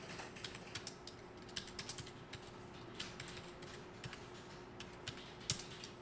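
Fingers tapping a computer keyboard in a quiet office, a quick irregular run of light plastic key clicks with a few harder strokes, close and fairly soft, no voices.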